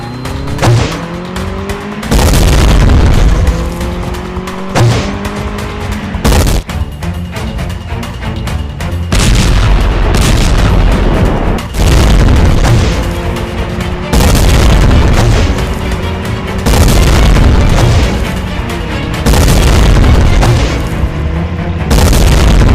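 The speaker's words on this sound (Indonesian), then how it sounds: "Ledakin aja mobil polisi itu sama mobil detektif itu, supaya kita aman." A police car and a detective car blown up in an Indonesian detective action scene: a string of loud booming blasts with crashing debris and skidding tires, near and heavy, repeating over about twenty seconds.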